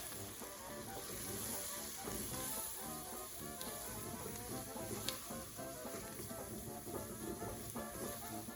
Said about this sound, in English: We're going to add flour and stir it in just until it starts to pull away from the sides of the pan